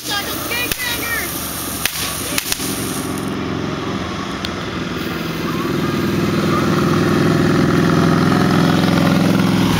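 A motorcycle engine rumbles and revs, growing louder and steadier toward the end, with a few sharp pops early on and voices in the background.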